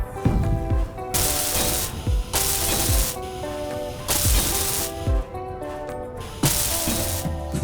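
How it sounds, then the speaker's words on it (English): Repeated bursts of hissing, spraying welder noise from repairing damage in the video game Space Engineers, four surges with short pauses between them, steady and fairly loud over a faint tonal background. "we've got to weld this damage up"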